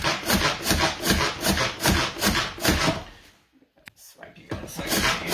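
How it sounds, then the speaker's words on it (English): Manual food processor chopping a quinoa energy bite mixture, with rapid repeated grinding and rubbing strokes, loud and close, pausing briefly before resuming. "I'm going to do that using my manual food processor"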